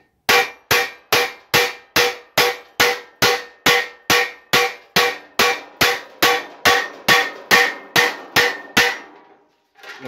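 About twenty evenly spaced hammer blows ring out on a 0.8 mm sheet-metal pipe, each a sharp clang with a short ringing decay, steady and loud, stopping near the end.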